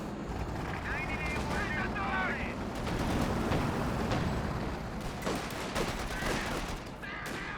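Rapid bursts of gunfire and explosions rattle through a Company of Heroes 2 battle with bazookas and a Panther tank, dense and continuous under a commentator's voice.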